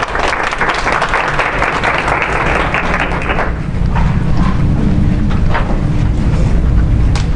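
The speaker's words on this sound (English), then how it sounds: "So let's give Rosalyn a round of applause." An audience at a university speech event applauds: dense, sustained clapping that fills the space, loud and steady throughout with a few cheers mixed in.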